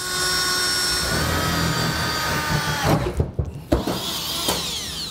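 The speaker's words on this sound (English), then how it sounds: "So I'll go ahead with my pilot bit, and I'm going to go ahead and make those holes now." A power drill with a pilot bit bores through the steel bed of a 2022 Ram pickup in a steady, loud, close whine. It then cuts off into a few clunks and rattles as the bit breaks through and the drill is pulled out.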